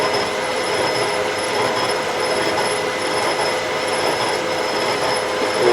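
A Colchester Bantam lathe cutting a 16DP change gear gives a steady, loud machining whir with a constant high whine and broadband grinding, unbroken throughout with no talk.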